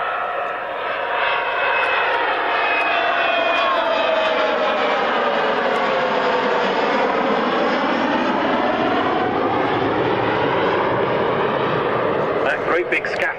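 Large four-jet Nimrod MR2 maritime reconnaissance aircraft of the RAF making a flypast at an airshow, a loud sustained jet roar with a sweeping pitch shift as it passes, steady throughout with no pause.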